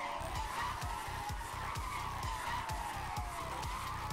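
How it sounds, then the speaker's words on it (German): A car drifting in Need for Speed Hot Pursuit, a sustained tire squeal and skid over a revving engine, with rhythmic low engine pulses throughout. "Ja, der geilste Drift ever."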